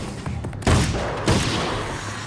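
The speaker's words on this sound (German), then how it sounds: "Für die hier ist der Karabiner genial. Zwei Schuss und die sind weg." Carbine gunfire in the video game Alan Wake's American Nightmare: two loud shots roughly half a second apart over dense, continuous game noise and music, with no talk.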